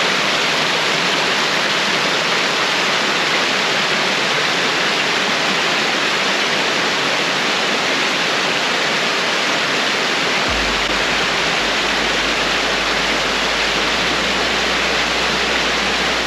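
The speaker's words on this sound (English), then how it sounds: "this is actually a beautiful little cascade here" Small roadside waterfall cascade near Milford Sound in Fiordland, a loud, constant rushing roar of falling water close by, with a deeper rumble joining partway through.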